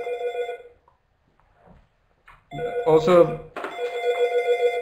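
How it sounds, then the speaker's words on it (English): A landline telephone rings in repeated electronic bursts during a medical lecture, loud and close, with a speaker's voice cutting in between the rings. "Sorry, the phone is off the hook. I don't know why it rings."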